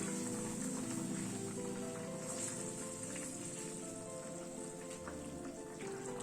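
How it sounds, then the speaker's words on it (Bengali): A steady low bubbling and sizzling from a pan of bottle-gourd-greens curry broth simmering, continuous and even throughout, close up with no talking. "ঝোলটা একটু ফুটে উঠুক"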